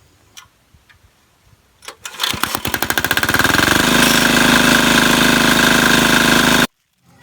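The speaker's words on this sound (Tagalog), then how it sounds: "Papaandarin muna natin itong makina" A Yamaha 7 horsepower diesel engine drives an irrigation pump on an okra farm: a few faint taps, then rapid firing beats that quicken into a loud, steady chugging run before cutting off abruptly.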